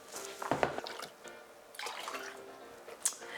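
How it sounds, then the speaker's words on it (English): Yeast water poured into a glass in a home kitchen, with soft splashing and dripping bursts around the start and again midway, a faint trickle between and a sharp clink near the end. "let me pour this in a glass."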